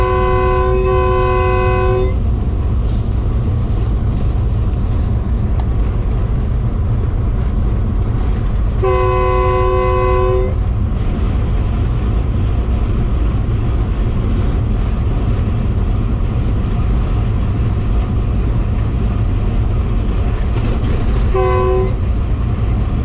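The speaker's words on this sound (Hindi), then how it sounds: "इस वक्त ट्रेन जो है वो स्किप करने जा रही है वहाबशाह रेलवे स्टेशन को" Pakistan Express passenger train running through Sindh, a loud steady rumble of wheels and carriages throughout, with three sounds of the horn, one near the start, one around nine seconds and a short one near the end.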